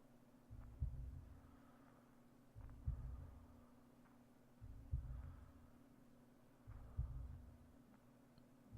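Steady breathing and a slow, heavy heartbeat from the video game Year Walk, four deep thumping beats evenly spaced over a low constant hum, close and quiet with no talk.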